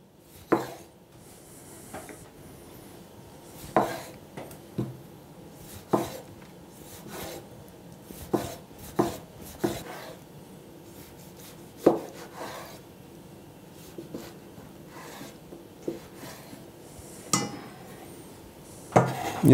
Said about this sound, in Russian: Помидор нарезаем кубиком.